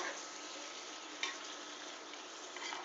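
Garlic, butter and shrimp sizzle steadily in a pan while being stirred, a constant bright frying hiss with a brief scrape or clack near the middle.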